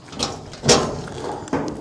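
Rear cargo door on a Mitsubishi Delica truck swinging open, with a sharp mechanical clunk near the middle and a softer thud toward the end, close and fairly loud with no talking.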